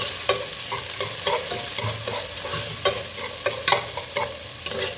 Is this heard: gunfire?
no